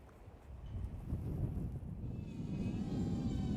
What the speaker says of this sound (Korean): 공중을 가르는 드론.